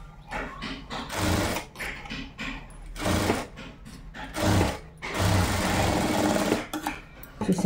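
A sewing machine stitches blouse fabric in short bursts of fast, whirring needle chatter separated by brief pauses, close and moderately loud with no talking.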